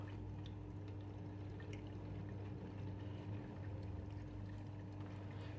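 An AEG L98685FL washing machine on its 40° energy-saving program takes in water: a steady low hum with a faint, continuous trickle of inflow, with no talking.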